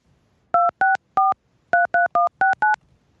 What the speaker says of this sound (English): Jay, do you know how to dial a goddamn phone?